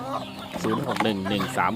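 Young backyard pullets and a laying hen on a village chicken farm cluck close by in a run of loud, throaty calls.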